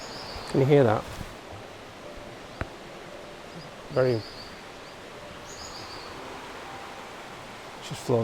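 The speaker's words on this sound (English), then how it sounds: "That's the common sandpiper." A common sandpiper calls beside a river, giving short bursts of high, trilling notes that come a few times over soft background noise, with a faint rustle between calls.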